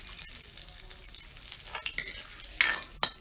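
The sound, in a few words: garam masala sizzling in hot oil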